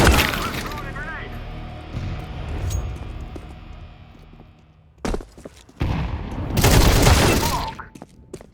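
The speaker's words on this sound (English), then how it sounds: "Throwing a grenade." A grenade detonating in a Genshin Impact battle: loud crackling blasts with shattering debris, a short sharp burst followed by a bigger explosion, under scattered voice callouts.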